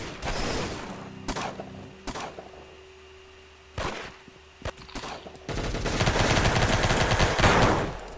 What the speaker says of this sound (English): This is a new sniper.